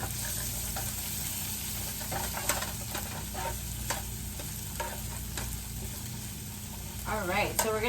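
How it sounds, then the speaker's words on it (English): Onion and garlic frying in a pan, a steady close sizzle with occasional stirring scrapes and clicks, and a short voice rising briefly near the end. "We're gonna add our onion, so that can brown nice."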